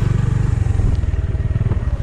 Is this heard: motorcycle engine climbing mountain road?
yes